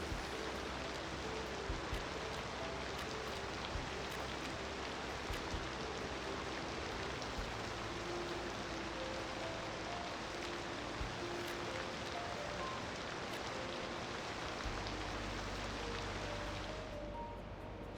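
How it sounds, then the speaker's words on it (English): Steady, dense video game rain patter with no pauses, soft and continuous like drops drumming on a tent, with a low rumble underneath throughout, in Cities: Skylines. "That's the sound of rain like hitting a tent or something."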